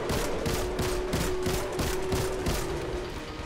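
Rapid, evenly paced gunfire rattles without pause for a few seconds in the video game Destiny 2, loud and up close with no talking over it.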